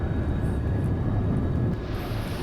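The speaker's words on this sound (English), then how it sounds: "get up to full afterburner and get this thing up in the air" Roar of an F-4 Phantom jet at full afterburner for a carrier launch in the X-Plane 11 flight simulator, a steady, dense, loud engine rumble that holds throughout with no talk.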